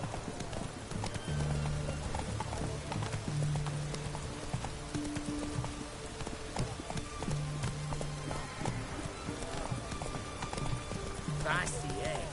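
Horse galloping in The Witcher 3, a rapid continuous clip-clop of hooves with occasional snorts, with background music and a voice speaking over it.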